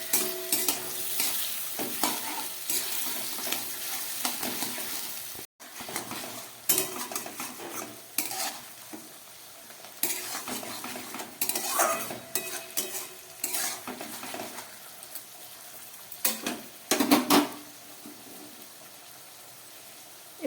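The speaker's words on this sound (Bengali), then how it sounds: "টমেটো আর পেঁয়াজটাকে আমি একসঙ্গে ভাজবো" Onion and tomato frying together in a pan, a continuous close sizzle with frequent scraping and clattering of a spatula as the mixture is stirred, alone without voices.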